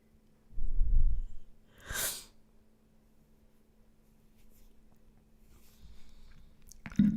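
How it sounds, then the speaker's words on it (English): A single sneeze-like burst of breath with a snort, alone in a quiet room, followed by a brief sniff and faint breathing. "I'm going to sneeze."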